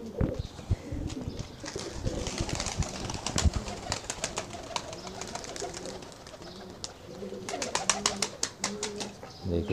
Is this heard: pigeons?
yes